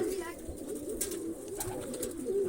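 Pigeons in a newly built loft coo softly in low rounded calls, faint and repeated, mixed with light background noise and nearby movement.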